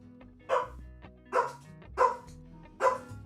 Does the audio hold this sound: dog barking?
yes